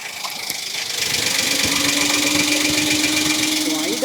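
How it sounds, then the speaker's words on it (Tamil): A Citroen Basalt X three-cylinder car engine cranks and catches, then settles into a steady, slightly uneven idle with a rhythmic thrum and minor vibration, close and loud. "இந்த வெஹிக்கிள் ஸ்டார்ட் பண்ணி பார்ப்போம். 3 சிலிண்டர் இன்ஜின் தான்"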